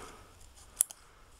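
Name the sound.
scissors cutting out a small paper figure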